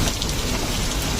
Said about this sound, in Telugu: వచ్చి పార్క్ దాకా కూడా పోతే ఫుల్ వర్షం స్టార్ట్ అయింది.